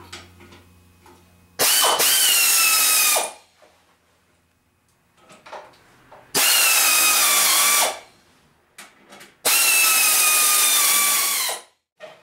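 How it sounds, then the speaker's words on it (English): Pressure plate bolts on a Volkswagen being driven in with a power tool, heard as three loud, close, sustained whirring bursts separated by quieter pauses with faint clicks. "I'm going to finish tightening these up just using common sense torque wrench."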